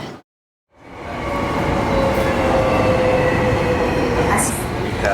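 A commuter train on the Yokohama line rumbles loudly from the inside. After a brief silence at the start, the roar builds into steady wheel and motor noise with faint squeals.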